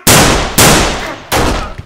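Three loud, close gunshots ring out in quick succession, each sharp blast decaying briefly before the next.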